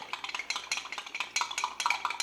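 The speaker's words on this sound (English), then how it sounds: "stir it up to start the dissolution process" A spoon clinks and scrapes around the inside of a mug as whiskey for an Irish coffee is stirred, a quick run of light, close metallic taps and swirls with no talking.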